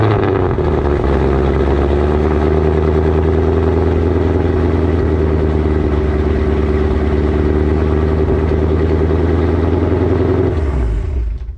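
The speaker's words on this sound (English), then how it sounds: "So let me go ahead and get a cold start here." A car with a Kooks catalytic converter delete exhaust rumbles loud and steady at idle on a cold start close by, deep and throaty, before cutting off abruptly at the end.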